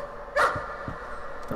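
A single sharp dog bark in the horror video game Layers of Fear rings out near the start, followed by a few softer low thumps over a faint, droning ambient background.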